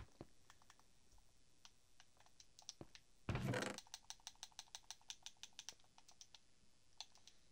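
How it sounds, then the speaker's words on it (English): Rapid light plastic clicks from game controller buttons, tapped in quick bursts and steady runs close to the microphone, with a brief louder rustle partway through and no talk. "you can hear my controller clicking"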